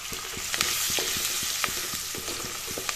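Fish curry coated in turmeric, chili and coriander powders is stirred in a pan over a steady sizzle, with a spoon scraping and clacking against the metal in irregular knocks, close and alone.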